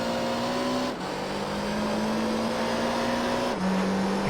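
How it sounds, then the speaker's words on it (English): Rear-wheel drive race car in the Gran Turismo 3 video game, a steady loud engine drone held at high revs for the whole stretch, with brief pitch drops near one and three and a half seconds as gears shift. "obviously this is a rear-wheel drive car"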